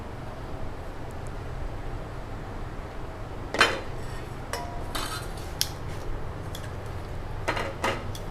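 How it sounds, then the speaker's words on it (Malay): Chicken is mixed with turmeric powder and salt in a bowl for Pakistani chicken curry, a few sharp utensil clinks and scrapes against the bowl scattered over a low steady background hum. "Kita gaul garam ni, kunyit bersama dengan garam."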